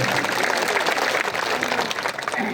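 An audience claps together to welcome a speaker at a public gathering, a dense continuous burst of applause filling the whole stretch at steady loudness.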